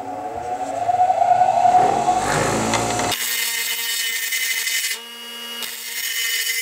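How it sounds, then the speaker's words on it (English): Grinding tool cutting out the retaining pin of a VEPR AK rifle's thread protector, a loud steady whine with a shift in pitch midway, continuous throughout with no talking. "So a little bit more grinding coming up next."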